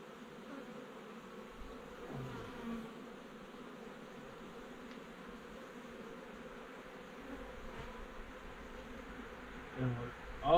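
Honey bees from a colony living in a storm-felled tree buzz in a soft, continuous drone, with individual bees droning past close to the microphone now and then, quiet and without talk.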